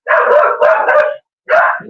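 A dog called Marky, nicknamed Barky, barks at someone walking by outside in springtime Texas, two loud close bursts of rapid barking separated by a brief pause, with no talking over them.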